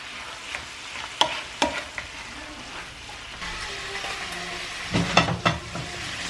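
Butter garlic sauce with lemon juice bubbles and sizzles in a pan beside salmon, a soft steady hiss punctuated by sharp clicks and a few louder spatters and stirring scrapes near the end.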